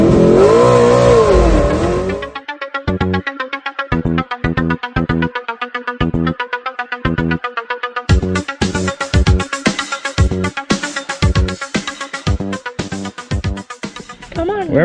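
A 1990 Ford Mustang Fox body with a 393 stroker pushrod V8 at the racetrack: a brief loud rumble, then a long series of sharp, rhythmic revving bursts. Rapid throttle blips separated by short gaps, close and loud.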